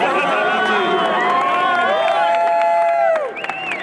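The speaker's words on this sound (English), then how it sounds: "There's a big crowd here who wants to congratulate you on your big win." Excited crowd at the Chicago Auto Show cheering and whooping for a contest winner drawn for a 1971 Ford Mustang, a steady loud roar of voices with shouts rising over it before easing near the end.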